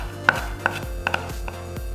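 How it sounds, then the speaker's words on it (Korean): A knife chopping a halved Cheongyang chili pepper into small pieces on a cutting board, about half a dozen crisp, separate taps at an uneven pace, close up with no talk. "작게 썰어주고"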